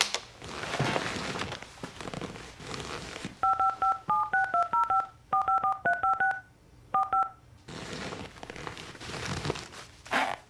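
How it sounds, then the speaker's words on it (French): A telephone keypad being dialed, a quick run of about a dozen clear tone beeps in short bursts, preceded and followed by soft rustling and handling noise in a quiet room. "Je lui téléphone immédiatement."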